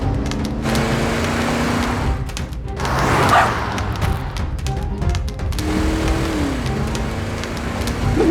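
A dog barks in several sharp bursts over steady background noise and low hum, fairly close and loud, with no speech.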